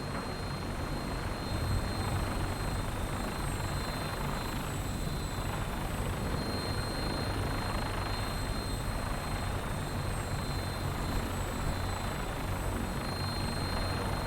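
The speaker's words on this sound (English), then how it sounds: "Get on that gunship, soldier." Steady, continuous drone of a gunship helicopter flying in Fallout 4, an even rotor and engine roar holding at moderate loudness without any talk.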